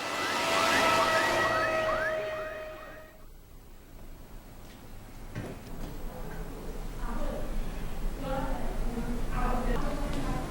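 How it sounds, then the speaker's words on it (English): An ambulance siren wails loudly and close for about three seconds with a fast rising-and-falling two-tone pattern, then cuts off, giving way to busy ambient noise and scattered voices in the background. "Meanwhile, the ambulance rushed to St."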